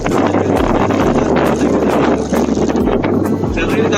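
Strong, steady wind roars and buffets close to the microphone on an open hilltop at a windmill farm with the turbines stopped, a loud continuous rush with low gusting thumps.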